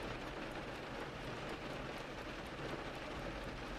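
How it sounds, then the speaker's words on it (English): Steady, dense rain hisses evenly throughout, a constant wash of drops with no pauses or voices. "the rain seems to briefly up its tempo before resuming its steady rhythm"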